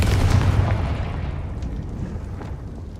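Confringo spell explosion in Hogwarts Legacy: one heavy, close boom with a deep rumble that slowly fades out over a few seconds.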